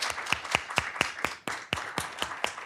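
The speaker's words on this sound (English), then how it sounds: "let's give him a big round of applause" Audience applause welcoming guest Victor Hoskins at a mayor's public event, with a run of sharp, distinct claps close by that thin out and swell again, fairly light overall rather than a roaring ovation.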